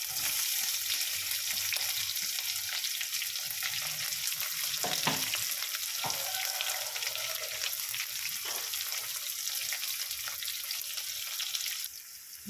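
Chopped onion with green chili and curry leaves frying in hot oil in a pan for peas rice, giving a steady bright sizzle with a few spatula scrapes and stirs, close and continuous with no talking.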